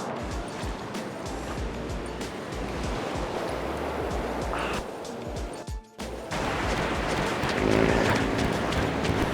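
Ocean surf at Muriwai beach on a calm day with small swell, a continuous wash of breaking waves and rushing water with a brief lull near the middle, then a fuller roar at the end.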